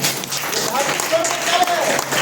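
An indoor audience applauds in honour of the late Agrawal sir, a continuous, fairly loud wash of many hands clapping with some voices mixed in.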